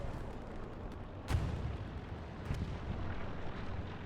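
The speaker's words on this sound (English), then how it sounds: "250 kilo bomb there" A 250 kilo bomb detonates in the World War II shooter Hell Let Loose: a sharp, heavy blast lands mid-clip, followed by a second, smaller burst and a rumbling battlefield din throughout.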